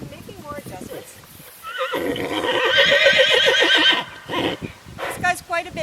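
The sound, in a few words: horse neighing during pack gear fitting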